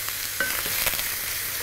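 Veal cheeks sizzle and crackle steadily as they sear in a hot pan, a continuous frying hiss with a few soft pops and scrapes.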